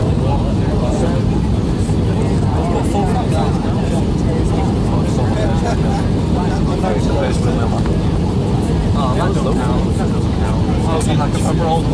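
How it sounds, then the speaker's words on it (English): Loud, steady roar inside the cabin of an Easyjet Airbus A319 on approach as the flaps extend, with a constant engine and airflow rumble throughout and people talking over it. "Flaps out a bit."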